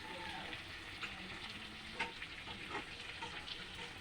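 Turmeric and spices sizzling in a frying pan, a continuous soft crackle with a few sharper pops and light stirring scrapes, fairly quiet and without talk.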